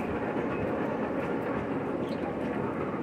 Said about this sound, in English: Now the train is back on the track.